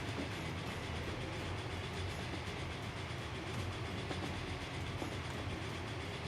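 A train climbing into hills in Transport Fever, a steady broadband rolling roar with faint clickety-clack, constant and fairly distant, no voices.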